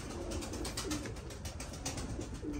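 Long face pigeons coo in a loft, soft repeated low calls over a steady rustling background, with no one speaking.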